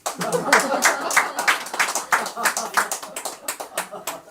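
Audience clapping in a brisk, uneven rhythm, a crowd of hands applauding fairly close, with some talking mixed in.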